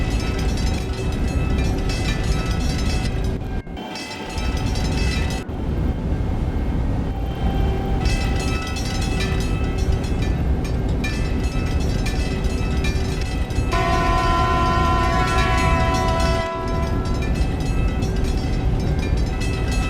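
A simulated express train pulls into a station in the Trainz railroad game, a steady loud rumble of rolling stock with a tonal whine and horn-like tones, and no talk.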